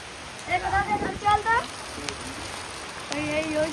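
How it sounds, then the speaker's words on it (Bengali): Heavy rain pours down over a village canal during hook-and-line fishing, making a constant hiss of drops on water and surfaces. A few brief voiced or tonal calls rise over the downpour. "প্রচুর বৃষ্টি হচ্ছে, পুরো ভিজে যাচ্ছি"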